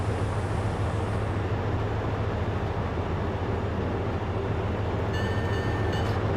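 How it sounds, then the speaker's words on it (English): A train on the East Point Branch running toward Jamaica station in snow, a steady loud rumble of wheels and motors throughout, with a faint high whine near the end and no voices. "And this is the train to Jamaica."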